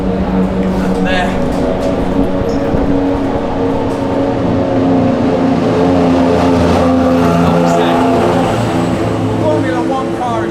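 Engine noise in the pit lane at the Phillip Island Classic, where a Formula 1 car passes, a loud sustained roar with shifting engine tones and revving, while people talk over it throughout.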